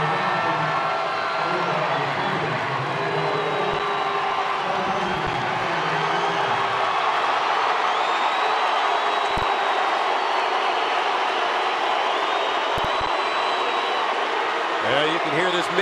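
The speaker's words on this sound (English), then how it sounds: "you can hear this mixed crowd" A mixed crowd fills the ballpark at a Los Angeles Dodgers game in San Diego, a steady broad roar of many voices that holds loud and even throughout, with a commentator's voice faint underneath.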